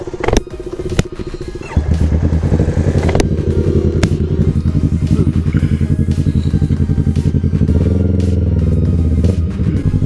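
A KTM Duke 390 and a Honda CBF 125 ride together on the road, their engines giving a loud close rumble with shifting revs and rattly mechanical clatter from start to finish.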